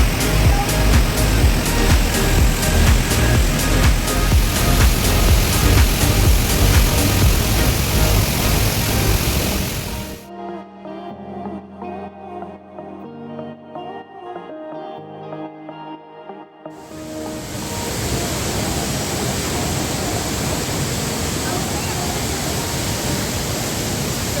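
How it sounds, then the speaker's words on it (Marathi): Steady, loud broadband rush of the Thoseghar waterfall, heard from a cave with spray reaching inside, briefly dropping to a quieter, muffled roar in the middle before the full roar returns. "वरून कोसळणारे हे धबधब्याचे तुषार आतमध्ये आपल्याला एकदम ओलेचिंब करून टाकतात"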